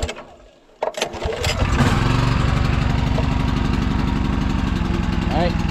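A small gas engine pull-started: a short tug and sputter, then it catches and settles into a loud, steady, close running chug for the rest.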